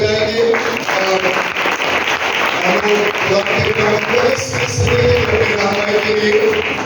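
Church congregation at a Tuesday prayer convention clapping steadily and fairly loudly for several seconds, mixed with cheering voices and hall echo.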